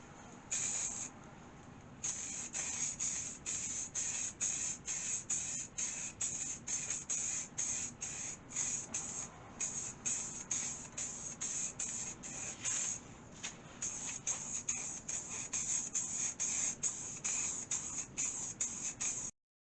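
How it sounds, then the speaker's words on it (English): White spray paint goes onto a square panel during a custom PC build, in a long run of short hissing aerosol bursts, close and loud, pulsing rapidly and evenly with only tiny gaps between blasts. "We're ready to spray this square. I'm going to go with a white."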